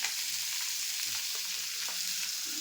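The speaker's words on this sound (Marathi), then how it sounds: "आता ह्याला मी कढईत तेल घातले, त्याच्यात थोडं मऊसर करून घेते." Fenugreek leaves softening in hot oil in a kadhai, a bright continuous hiss of frying with soft, light stirring scrapes underneath, close and steady.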